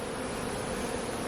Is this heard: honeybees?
yes